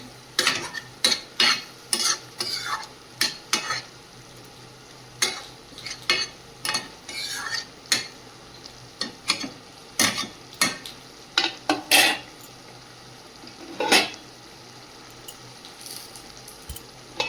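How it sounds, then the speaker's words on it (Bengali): Lote fish (Bombay duck) simmers in its own released water in a pan while a utensil stirs it, giving a run of sharp scraping and tapping strokes over a faint, steady cooking hiss. "লোটে মাছের জলেই লোটে মাছটা রান্না হবে।"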